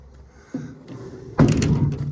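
Door of an old Omaha-bodied truck with a small V8 being forced open at an auction, a soft creak followed by a loud, rattling metal clunk and scrape, close by and with no talking.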